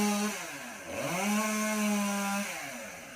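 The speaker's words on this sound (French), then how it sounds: "Donc il va remettre un petit coup de tronçonneuse" A chainsaw whines loudly nearby, cutting tree branches, its pitch dipping and rising as the engine bogs and revs while cutting.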